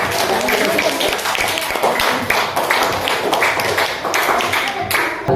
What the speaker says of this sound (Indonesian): kita kasih tepuk tangan untuk kelompok